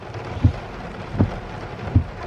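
Steady rain drums on a car's roof and windows from inside the vehicle, a continuous wash of patter with a few soft thumps of heavier drops, and no one speaking.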